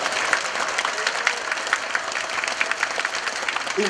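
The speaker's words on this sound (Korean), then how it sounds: "큰 박수로 이종찬 광복회장님 맞이하겠습니다" Audience applause at a lecture in Daejeon, welcoming the head of the Korean Liberation Association to the stage; a steady, dense patter of many hands clapping fills the room without pause for several seconds.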